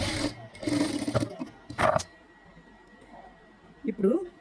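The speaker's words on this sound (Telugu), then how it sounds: "కరెక్ట్గా సెంటర్లో స్టిచ్చింగ్ వేద్దాం కదలకుండా." A sewing machine stitches a blouse latkan in short bursts of whirring needle runs, close by, separated by pauses with faint handling noise and a final brief burst.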